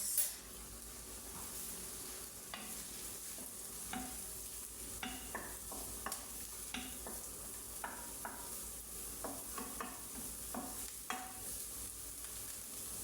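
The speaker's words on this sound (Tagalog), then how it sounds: "Dito sa Arabic guys, ang onions ang unahin pag-fry." Onions frying in a pan for an Arabic-style meatball sauce, a faint steady sizzle with repeated scraping stirs and light utensil taps, close and quiet with no talking.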